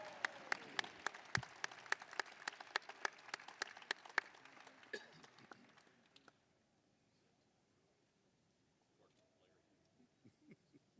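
Audience at the Elks Hoop Shoot national finals at Wintrust Arena applauds a Hall of Fame inductee, with sharp claps that fade out over about six seconds, leaving a quiet hall with scattered faint noises.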